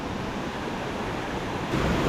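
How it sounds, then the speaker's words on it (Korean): Loud, steady roar of rushing water from a pool in a mountain stream on Yumyeongsan in the Gapyeong valley in summer, continuous and close with no voices. "용의 울음소리만큼 물소리가 크게 들립니다"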